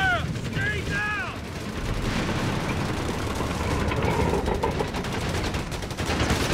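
Small arms fire in the World War II strategy game Company of Heroes 3, dense rattling rifle and machine gun bursts under constant battle noise, with a few whistling tones near the start.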